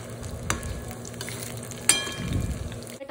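Baby corn fries in a pan with a soft, steady sizzle, interrupted by two sharp clacks as the pieces are turned, followed by a brief louder burst of frying.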